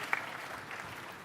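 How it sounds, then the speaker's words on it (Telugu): Faint, brief applause from a crowd at a political public meeting, a soft wash of distant clapping with one sharper clap near the start. "చప్పట్లు కొట్టి అభినందించండి"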